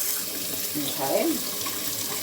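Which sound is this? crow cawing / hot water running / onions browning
hot water running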